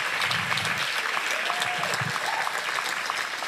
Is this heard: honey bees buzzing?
no